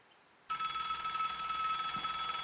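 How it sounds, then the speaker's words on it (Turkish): A telephone in the video game Vigor starts ringing abruptly after a short quiet moment, a steady continuous electronic ring at moderate loudness that carries on to the end with nothing else heard. "Bakın, telefon çalıyor."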